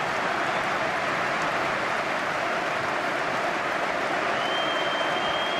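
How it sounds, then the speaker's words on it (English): Steady applause from a stadium crowd at a Tottenham Hotspur versus Burnley FA Cup football match, a dense, continuous wash of clapping holding even loudness throughout with no breaks. "a round of applause for Harry Pittman, the youngster who was tragically stabbed to death on Primrose Hill over the Yuletide period"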